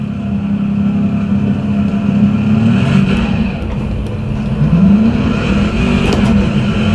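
A race car in iRacing launches off the line at a race start, with a loud steady engine drone that climbs through gear changes alongside other cars' engines.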